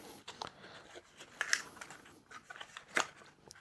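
Scissors snip through Oral-B Pro 100 electric toothbrush packaging, giving several crisp close cuts and plastic crinkles in an irregular rhythm, with no talking over them.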